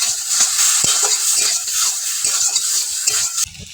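Ginger and cumin paste with turmeric and a splash of water sizzles in a pan while being stirred, a close, bright hiss broken by a few sharp scrapes and clinks of the spoon.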